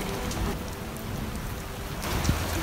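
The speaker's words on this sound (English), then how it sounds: "There's been a lot of thunder, a lot of lightning, and a lot of rain." Driving rain lashes a sailboat at sea during a thunderstorm, a steady dense hiss of rain with gusty wind noise throughout and a brief low rumble near the end.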